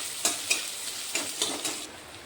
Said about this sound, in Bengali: পেঁয়াজগুলো একটু লাল লাল করে ভেজে নিতে হবে।